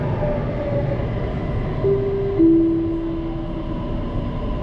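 A Bangkok MRT Blue Line metro train pulls into Charan 13 station, a steady rumbling interior drone with a rising whine that settles as the train slows, heard from on board.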